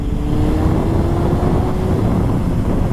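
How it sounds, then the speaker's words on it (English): A Honda CBR954RR motorcycle engine runs during a test ride, a loud continuous roar with a faint rising whine, heard close with heavy wind rush and no talking. "Super powerful, very healthy, powerful engine. It pulls really good."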